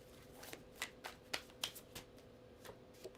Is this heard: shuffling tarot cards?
yes